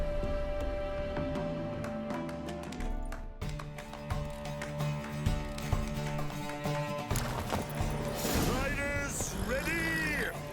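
Horses gallop in a race in The Witcher 3, hooves clip-clopping in quick rhythmic beats under game music, with a whinny and shouting riders near the end.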